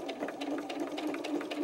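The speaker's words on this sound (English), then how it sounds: "now I'm going to take this to the machine and sew this edge with a quarter inch seam." A sewing machine runs a quarter-inch seam along the edge of a fabric pincushion, humming steadily and close, with its rapid needle strokes pulsing evenly throughout and no pause.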